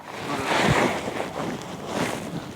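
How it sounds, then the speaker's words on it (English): Outdoors at a rifle shooting range, gusting wind buffets the microphone with a steady, rushing low rumble that swells and eases over a couple of seconds, fairly loud with no talking. "Wind is picking up though."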